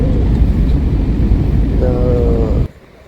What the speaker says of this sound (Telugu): ఫ్లైట్ స్టార్ట్ అయ్యింది